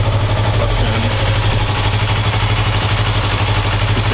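A motorcycle engine idles steadily with the clutch held, a close, continuous low rumble with a faint mechanical clatter and no speech.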